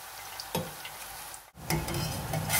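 Sliced onions frying in oil in a pan, a close, steady crackling sizzle with brief stirring scrapes partway through.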